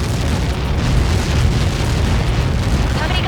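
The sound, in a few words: explosion impact in Ace Combat 7 video game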